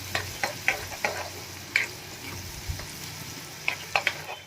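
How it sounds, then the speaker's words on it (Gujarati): Chopped garlic and onion frying in a pan for a Gujarati vegetable dish, a soft sizzle under sharp, scattered stirring clicks and scrapes, close by with no voices. "આપણે આ ડુંગળીને પણ એડ કરી દઈશું ડુંગળીને આપણે એકદમ સરસ લાલ થવા દેવાની છે"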